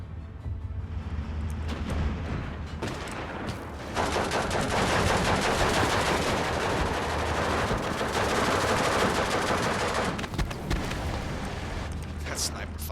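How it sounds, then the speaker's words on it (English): Sniper and small-arms fire crackles from a Steel Division II battle on the Romanian front near Iași, dense bursts of gunshots running nearly the whole time, loudest in the middle stretch, with explosions and combat din layered in. "that sniper fire pinned him down pretty fast"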